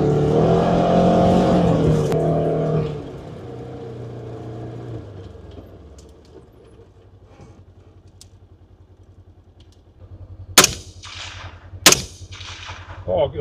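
Two loud, sharp rifle shots from a 300 AAC rifle at feral pigs on wheat stubble ring out near the end, after a vehicle engine rumbles and fades away into quiet outdoor background.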